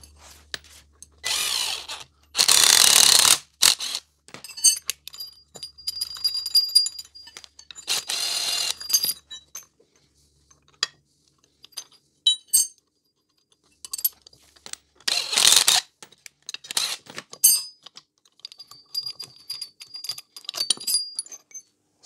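Intermittent metallic clicks and bursts of tool noise from a socket ratchet working a panhard rod bolt on a Nissan GQ Patrol, with short loud spells separated by pauses and scattered clinks.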